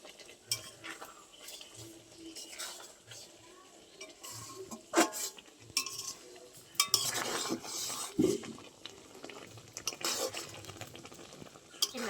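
Raw mango pickle with vinegar stirred in a pan with a spoon, with soft scraping and metallic clinks against the pan over a faint sizzle, close, irregular and fairly quiet.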